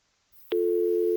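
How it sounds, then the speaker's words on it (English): A dial-up modem starting a connection, faint line hiss followed by a sudden, loud, steady single tone that holds without a break, alone with no voices. "at the moment you could probably hear a modem sound going off in the background."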